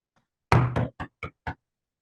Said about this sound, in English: She bangs on what appears to be the door to get the girl's attention.